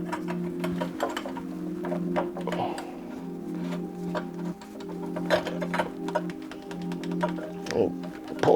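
A brass nut is tightened onto a garbage disposal's sink mount over a cardboard friction ring, giving a run of quick metallic ticks and clicks close by over a steady low hum, with a voice talking at times.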